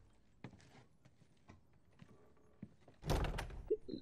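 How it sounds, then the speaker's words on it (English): A door opening in The Last of Us video game: scattered soft footsteps and clicks, then a louder burst of creak and thud near the end, faint and without speech. "Open the door."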